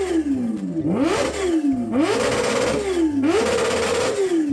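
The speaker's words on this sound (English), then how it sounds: "They started the H2R and within seconds there were people all around it." Kawasaki H2R motorcycle engine revving at a motorcycle show, loud and close, its pitch climbing and dropping in three sharp repeated blips over a constant throbbing idle.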